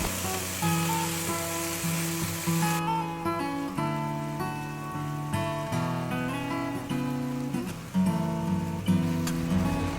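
Ground beef seasoned with garlic and onion powder sizzles steadily as it browns in a pan, with a continuous crackling fry and occasional scraping and tapping from being broken up.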